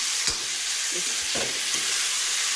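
Jackfruit minced like momo filling and spiced with cumin, garlic and masala is stirred in a pan: a few scraping strokes over a soft, continuous sizzle, with no talking.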